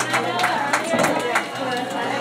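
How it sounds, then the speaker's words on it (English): Scattered clapping from a small audience after a live cosmetic injection demonstration, steady and moderately close, mixed with murmuring voices. "Let's give her a big hand of applause."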